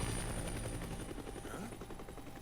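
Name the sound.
news helicopter flying overhead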